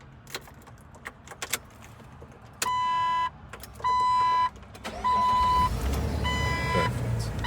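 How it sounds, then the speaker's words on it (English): A 2006 Jeep Wrangler sits amid key jingles and clicks while three chime tones sound, then the engine cranks and catches into a loud, close rumbling idle near the end. "just wanted to do a quick startup and give you an idea of what this beast sounds like. All right, let's go ahead and crank it on."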